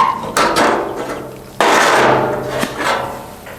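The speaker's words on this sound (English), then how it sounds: "Let me take the C-clamp off and let me show you." A C-clamp being taken off the rusty inner fender of a 1980 K10 truck, giving two or three loud, ringing metallic clanks in close succession with a short decay after each.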